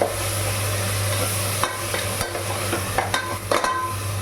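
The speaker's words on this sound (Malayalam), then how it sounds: "സിമ്മിലിട്ട് നന്നായിട്ട് ഇളക്കി കൊടുക്കണം." Vegetable biryani masala stirred in a pan over a low flame, a steady soft sizzle with a low hum beneath and a few scraping spoon knocks near the end, no voices.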